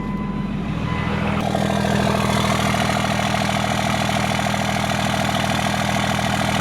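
A Cummins diesel engine in a manual truck settles into a steady, loud, close idle with a constant low rumble and an even throb after the start.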